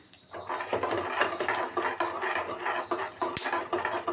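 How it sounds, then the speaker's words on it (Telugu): Metal spoon clinking and scraping against a pot while ghee is added, a steady run of close, busy clatters with no talk. "ఇప్పుడు వచ్చేసి నెయ్యి నెయ్యి వేస్తున్నాను"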